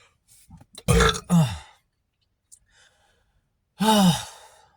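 Several burps and belching grunts from a person eating an egg and gouda cheese bagel, a pair of close voiced burps followed by a pause and another longer one, loud and near with no talking.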